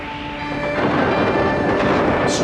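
A cartoon thunderstorm effect, summoned in an animated Life of the Buddha story, swells into a loud, broad rumbling roar that builds and holds steadily like rolling thunder, with no speech over it.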